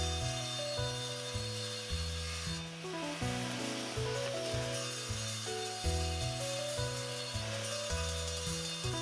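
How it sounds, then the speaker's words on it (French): A niangon wood board being sawn into three pieces, with steady rhythmic back-and-forth strokes of a saw rasping through the timber, close and continuous with no talk. "je découpe finalement cette planche en trois"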